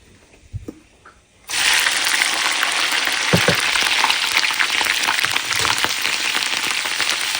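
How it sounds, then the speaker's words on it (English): Chili dropped into hot oil with dark-browned methi seeds bursts into a loud, steady sizzle after a few quiet clinks, the crackling frying continuing evenly up close. "So I'm gonna fry the chili"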